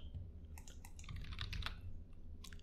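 Typing on a computer keyboard while editing a Django web page, a burst of quick clicking keystrokes building to a cluster in the middle, close and clear, then a couple of final taps.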